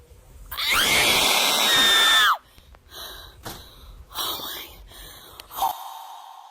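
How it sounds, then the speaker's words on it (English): A woman screams loudly and at length in a frightening moment, the shriek close and overpowering, then gasps, whispers and breathy sounds follow. "her scream was so loud it literally broke the bass of the audio"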